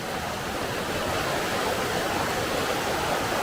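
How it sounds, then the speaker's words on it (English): Water teems out of a gully beside Haltwhistle Burn, a steady, close, full-bodied rush and splash that continues without a break, with no voices over it. "here's a like a gully thing where the water's coming teeming out"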